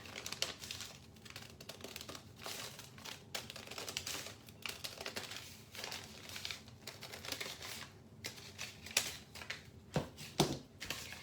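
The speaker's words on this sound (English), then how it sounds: "I just need to trim them so that they fit inside the cover." Notebook paper pages being trimmed to size to fit inside a handmade nature notebook cover, giving a steady run of soft crisp cutting and crinkling strokes, close and fairly quiet, with no talking.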